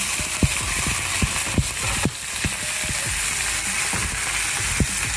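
Meat sizzles and fries in an oiled pan, giving a loud, dense, continuous crackle broken by frequent sharp pops and spits, with no voices over it.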